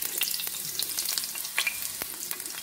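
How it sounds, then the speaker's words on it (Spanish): Onion sizzles in a pan of preheated hot oil, a steady close frying crackle and hiss with light popping throughout and no speech. "aquí ya tenemos el sartén previamente calentado con aceite y ahora vamos a pasar a poner poquita cebolla"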